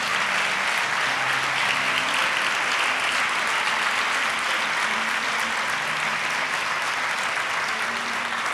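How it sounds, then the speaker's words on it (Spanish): An audience at a school awards ceremony in Chiclana applauds students receiving educational recognition, a loud sustained wall of clapping that holds evenly for several seconds without speech. "Ahora sí, un fuertísimo aplauso para ellos."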